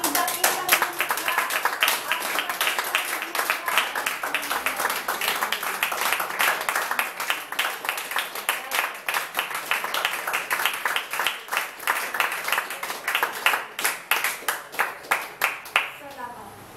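A church congregation claps together for the Creator during a worship service, sustained applause that grows into a steady rhythmic beat toward the end, with voices heard underneath.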